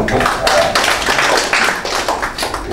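A crowd of attendees claps at a press gathering with a music association, a loud, close, dense patter of hands that continues steadily throughout without speech.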